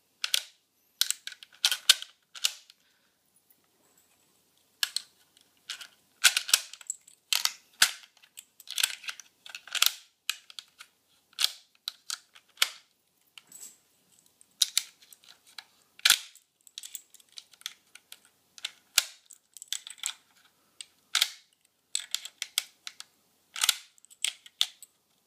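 .223/5.56 rounds pressed one by one into a rifle magazine, giving a long, uneven series of sharp, close metallic clicks and snaps separated by short pauses, with no voices.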